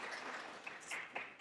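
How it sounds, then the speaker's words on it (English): An audience at a kidney transplant symposium gives a speaker a round of applause, a dense, fairly faint wash of many hands clapping at a steady level throughout. "Let's give Helen another round of applause."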